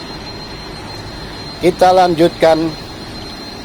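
Main diesel engines of the passenger ship KM Umsini filling the engine room with a loud, steady roar and high whine, while someone briefly talks over the constant mechanical drone.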